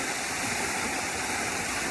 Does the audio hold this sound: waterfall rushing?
yes